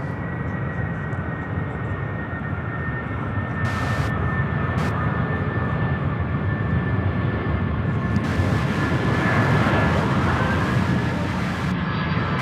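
Jet airliner landing at Louisville International Airport (SDF), a steady loud engine roar with broadband rumble and a rising whine, swelling slightly near the end; a voice speaks faintly beneath it.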